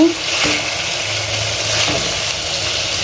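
Beans being stir-fried with chopped garlic and ginger in a pan, giving a steady, close sizzle and frying hiss with faint stirring scrapes and no talk.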